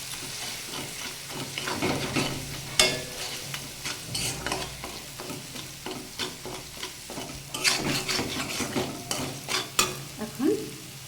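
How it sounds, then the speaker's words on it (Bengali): Snake gourd curry with turmeric and sesame paste being stirred in a pan, with repeated scraping strokes of a spoon over a steady low sizzle and occasional louder clatters against the pan. "ভালোভাবে একটু নেড়ে চেড়ে নেব"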